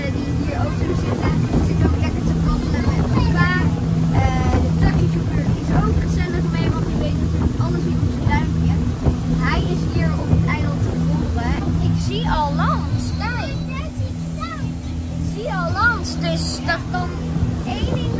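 A boat engine hums steadily under the ride off Bali toward Lembongan, with wind buffeting and a constant low drone beneath people chatting throughout.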